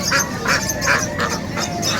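Ducks quack repeatedly in a quick, overlapping chorus at the Bocaue pet market in Bulacan, Philippines, close and fairly loud.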